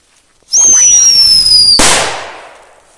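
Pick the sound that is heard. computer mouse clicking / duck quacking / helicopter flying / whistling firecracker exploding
whistling firecracker exploding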